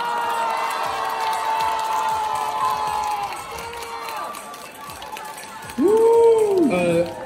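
Audience at a freestyle street dance battle in Beijing cheering and clapping, a broad crowd roar under a host's amplified voice, ending with a loud shout near the close.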